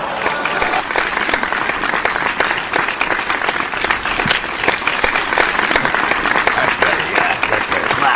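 Steady applause from a studio audience at a podcast taping, dense clapping sustained at an even level throughout with scattered sharper claps standing out.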